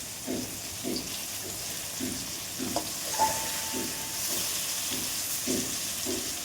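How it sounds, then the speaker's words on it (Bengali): Mustard-paste-stuffed ridge gourd frying in a pan, a steady close sizzle and hiss with soft rhythmic stirring pulses roughly every half second, no talk. "এরকম একটু কড়া কড়া করে ভাজলে ভালো হয়।"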